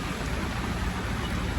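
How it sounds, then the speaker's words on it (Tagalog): Heavy monsoon rain pours in Manila during a typhoon, a dense, loud, unbroken wash of rainfall close by, steady for the whole brief moment with no talking. "Pero walang tigil ang ulan."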